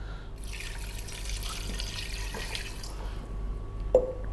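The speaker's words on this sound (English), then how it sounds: "We're going to add water." Water running steadily into a pressure cooker holding seasoned beef for a Kerala beef curry, a continuous broad splashing pour with a brief louder splash near the end, no talking.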